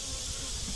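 Dense, steady buzzing of many honeybees close by, a continuous droning hum with no talking.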